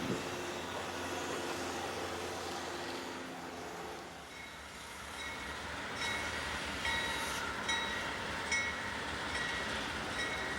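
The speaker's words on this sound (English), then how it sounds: "scenes like these multi-train meets visible from just feet away are history" Trains passing through the Joliet Union Station rail junction, with a steady rumble of rolling cars and wheels at moderate distance and faint high squeals creeping in later.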